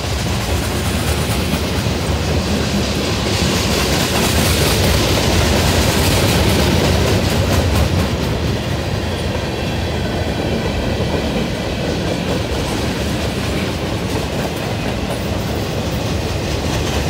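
A BNSF freight train led by an ET44AC locomotive, hauling intermodal and manifest cars, rolls past with a loud, steady rumble and rhythmic clickety-clack of wheels throughout.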